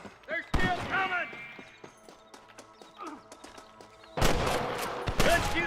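Sharp gunshots in the Western video game Red Dead Redemption, a few scattered loud cracks with bursts of impacts near the end, amid horse clip-clop and characters talking.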